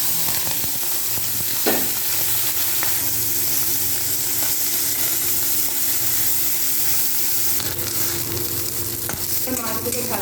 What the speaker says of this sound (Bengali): মাছগুলোতে লবণ হলুদ মেখে নিয়ে আমি কড়াইয়ে